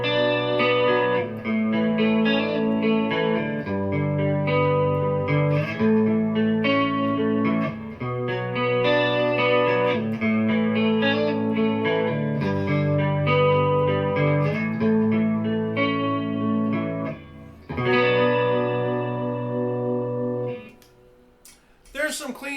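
Schecter Solo 2 Standard Ocean Burl electric guitar played through its neck pickup with distortion, sustained chords and riffs ringing loud and steady, then dropping away near the end.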